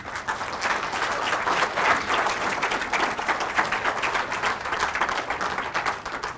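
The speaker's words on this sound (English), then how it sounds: "So give a big First Friday's applause to Amy Hanna." An audience at a First Fridays community gathering claps steadily and densely, a continuous round of applause at moderate loudness with no talk over it.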